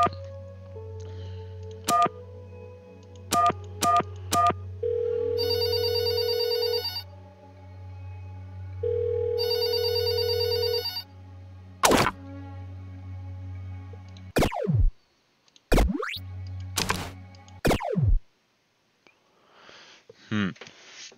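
A telephone in the video game There Is No Game rings in repeated electronic bursts amid clicks, swooshes and a low hum, loud and close with no voices over it.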